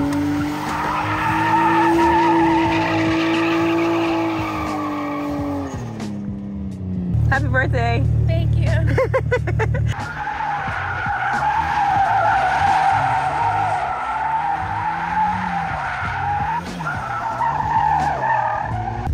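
Loud tire squeal from a Pontiac Solstice drifting, a long wavering screech with engine roar underneath, briefly joined by a couple of voices.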